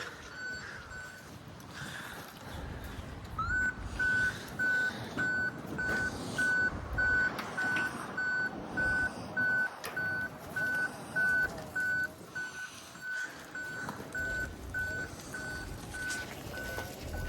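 Steady, evenly spaced electronic reversing beeps repeat for most of the stretch, ringing out over a rumbling idling truck and shuffling noise as a pallet is unloaded from a delivery van.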